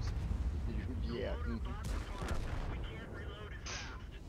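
Gunfire in a combat flight video game, dense rumbling bursts of shots and explosions under a radio voice that keeps talking over it.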